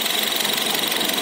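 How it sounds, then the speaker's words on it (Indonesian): A 2017 Honda HR-V 1.5 E CVT engine idling with a fast, regular mechanical ticking from under the hood, heard up close and steady throughout. "suara pergerakan benda-benda di dalam ruang mesin itu tetap terdengar kuat dan itu ciri bawaan."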